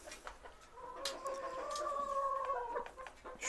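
Red chickens and a rooster on a Turkish free-range poultry farm make soft clucks and a drawn-out crowing call, faint and somewhat distant, with no talk.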